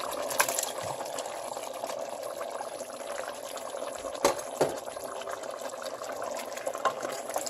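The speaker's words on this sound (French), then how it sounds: "je vais laisser mijoter comme ça pour permettre à la tomate de bien cuire" Goat meat sauce with tomato simmering in a pot, a soft continuous bubbling and sizzle with occasional louder pops and splutters, close and moderately quiet.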